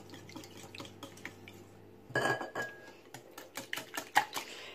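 Eggs and milk are whisked in a small bowl, giving quick, light clinks and taps of utensil against the bowl in an irregular rhythm, faint and close, with no talk.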